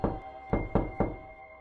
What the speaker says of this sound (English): The next knock came at 2:37 a.m.